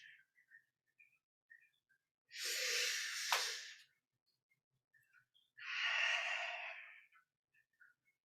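Slow, deliberate yoga breaths, two long airy exhalations a few seconds apart, close and fairly soft, with faint small sounds between them and no talking.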